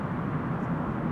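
A Boeing 777 freighter touches down gently after a long flight, heard as a steady, distant low rumble of engines and rolling airframe with no break.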